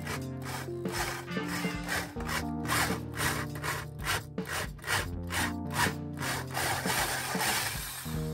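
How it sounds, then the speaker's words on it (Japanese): Hand sawing and rasping on wood while refilling screw holes in a Jazz Bass guitar body, with a steady rhythmic back-and-forth scraping of close, even strokes and no talk. "じゃあこのビス穴埋め直します"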